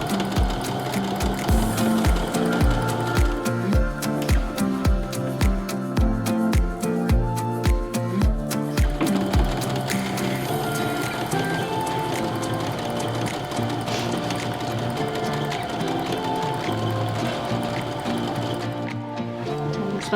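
Sewing machine stitching a long quilt seam on a panel quilt, a loud rhythmic mechanical chatter that pulses in strong bursts for the first half, then runs as a steadier whirring hum to the end.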